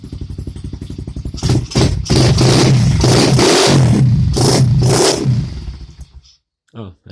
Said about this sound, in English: Give you guys a quick little rev.